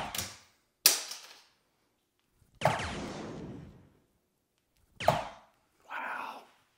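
Darts strike a dartboard in a series of sharp, loud impacts spaced a second or two apart, each trailing off quickly, with a final softer rattle as a dart bounces out.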